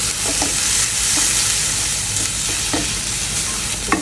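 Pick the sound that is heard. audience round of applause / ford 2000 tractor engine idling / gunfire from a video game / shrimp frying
shrimp frying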